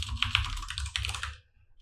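Rapid keystrokes on a computer keyboard as text is entered in a graphics program, a quick cluster of close, crisp clicks that taps off into near silence.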